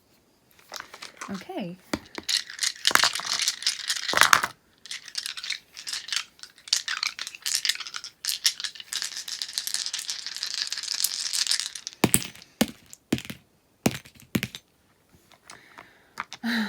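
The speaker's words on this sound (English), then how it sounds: "we're rolling number 5 set of dice" A set of dice is rolled: a busy clattering rattle of small clicks and tumbling runs on and off, with a brief spoken word partway through.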